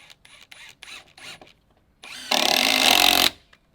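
Cordless power tool driving a screw into wood framing for deck skirting: a few short clicks and taps, then one loud, steady one-second whir that stops abruptly, close by.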